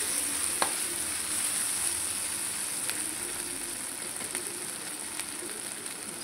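Ginger paste frying and being stirred in a pan for an onion, capsicum and egg curry: a steady sizzle with a few light scrapes and taps of the spoon, close and fairly quiet, no speech.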